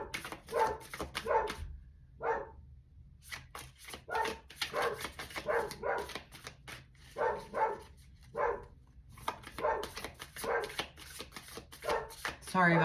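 A dog barking indoors in repeated bursts of sharp barks separated by short pauses, close and fairly loud.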